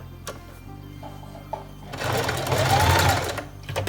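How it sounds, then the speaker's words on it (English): A sewing machine runs a straight stitch through fabric for a newborn onesie, a steady close mechanical whir that starts after a few faint clicks and builds into a continuous buzzing run. "we are going to straight stitch"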